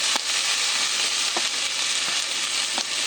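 Raw shrimp shells sizzle in a hot pan as they begin to cook, a close, steady frying hiss with faint crackles and pops scattered through it and no voices.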